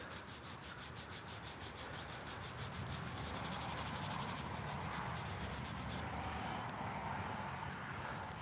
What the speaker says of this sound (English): after that hit it on the sanding wheel may open up the pores a little bit